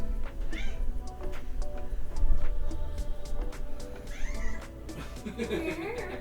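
A cat meows a few times, with a person talking softly nearby over a low background hum.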